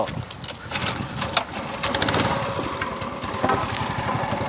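A fishing boat's engine runs loudly and continuously while leaving the pier, a rough chugging clatter with sharp ticks over a steady mechanical roar.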